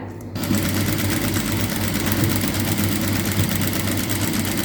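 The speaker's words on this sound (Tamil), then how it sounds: "3ல் வச்சு நான் தைக்க ஆரம்பிக்கிறேன்." A sewing machine runs steadily, stitching a straight line after a brief quiet start. Its loud, even motor whir and rapid needle clatter continue without pause and sit close.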